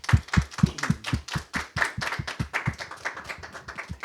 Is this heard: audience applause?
yes